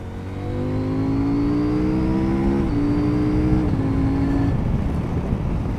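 A CFMOTO 800 MT Touring motorcycle engine revs up steadily through several quick-shifter gear changes, the pitch climbing and briefly dropping at each change, loud and close.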